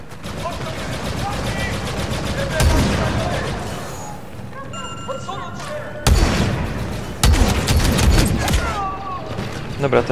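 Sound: turret gunfire in Star Wars Battlefront 2 video game

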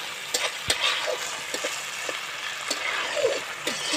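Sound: chicken masala frying while stirred with a spatula

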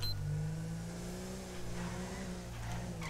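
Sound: car arriving in GTA V video game

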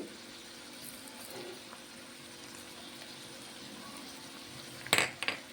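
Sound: stirring mutton fenugreek curry in a pot

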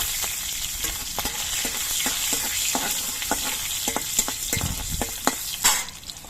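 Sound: green chillies and black cumin frying in oil

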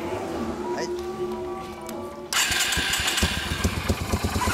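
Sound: Yamaha SRV250 motorcycle engine with Supertrapp exhaust

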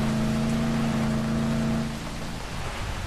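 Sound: rain in the video game Dead Island Riptide

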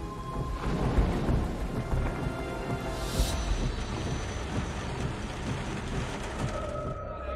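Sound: thunderstorm with rain

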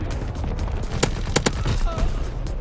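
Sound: incoming enemy artillery and gunfire in video game Call of Duty WWII

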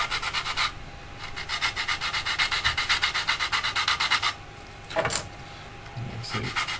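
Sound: sanding plastic model kit part with sanding stick

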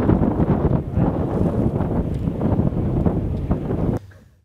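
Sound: wind

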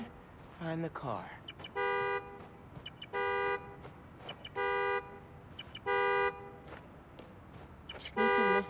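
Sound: car horn honking in the video game Marvel's Spider-Man: Miles Morales

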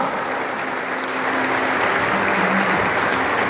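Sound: applause

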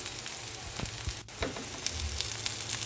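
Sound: garlic and onion sautéing in pan

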